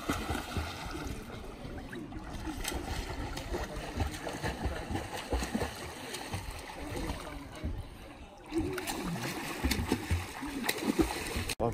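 A child splashes water around in an outdoor swimming pool, with irregular close splashes and sloshing that run throughout, mixed with voices and talk.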